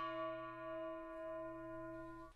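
A stacked set of drum-kit cymbals rings out like a large, thin bell, with a sustained, shimmering tone slowly decaying, fairly quiet and alone.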